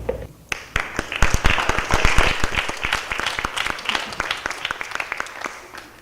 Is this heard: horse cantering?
no